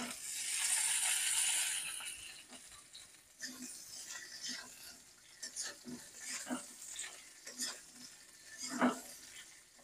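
Cut bhol (fish) tipped into a hot pan of lightly browned fried potatoes: a loud hiss and sizzle for the first two seconds, then scattered clinks and scrapes of stirring that grow sharper toward the end.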